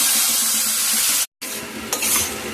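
Peas and pickled chili with a little salt are stirred in a hot pan, giving a steady close sizzle with scraping strokes. A brief pause breaks the sound, and then the frying starts again.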